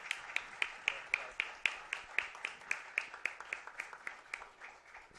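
Audience applause at a conference panel on a new constitutional alliance for Mexico City, steady rhythmic clapping from a modest crowd, fairly faint and even, lasting throughout with no voices.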